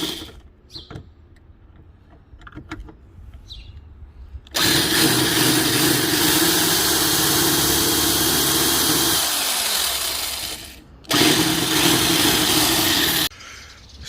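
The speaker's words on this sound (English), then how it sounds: "So after lots of drilling and all that kind of stuff" A power drill drills out the stock rear wing of a BMW E36, running in two long, loud, steady whines close to the car after a stretch of quiet handling noises and clicks.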